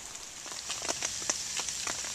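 Rain falling at Teufelssee lake in Grunewald forest, a faint soft patter of scattered drops ticking irregularly on nearby surfaces over a quiet steady background.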